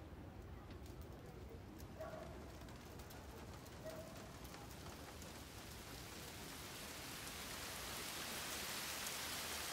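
Rain falls steadily in a Ryu ga Gotoku Ishin cutscene, a soft, even hiss that grows slightly denser toward the end, with a few faint coo-like calls early on.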